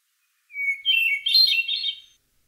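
Hermit thrush song: a clear sustained opening whistle followed by a rising cascade of fluting, shimmering notes, heard alone against silence in one short phrase.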